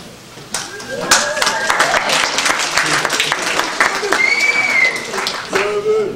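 A design lecture audience gives sustained, fairly loud applause that swells and holds for several seconds, with voices heard through it.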